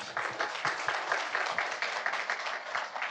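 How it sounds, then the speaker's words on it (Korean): Steady applause from a forum audience at a university's 75th anniversary event, dense overlapping claps sustained throughout at moderate loudness. "이 모두를 위해서 박수 한번 쳐주세요"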